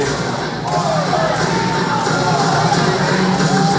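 An arena wrestling crowd at an OVW Heavyweight Championship event cheers loudly, a sustained roar of many voices with scattered shouts and whoops.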